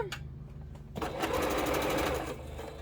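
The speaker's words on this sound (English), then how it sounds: "we can sew these together" A sewing machine stitching quilt block pieces together with a 1/4-inch seam starts after a moment of quiet and runs in a fast, steady mechanical whir of rapid needle strokes, close and moderately loud.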